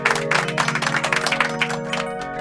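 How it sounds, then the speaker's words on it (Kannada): Loud clapping from a small group, a quick ragged run of hand claps lasting a couple of seconds, close and steady, with a faint tone underneath. "ಜೋರಾಗಿ ಚಪ್ಪಾಳೆ ಕೊಡಿ"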